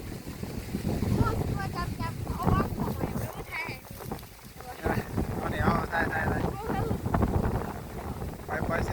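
Strong wind roars and buffets the microphone outdoors while a kite is flown, a continuous loud rush with voices faintly underneath.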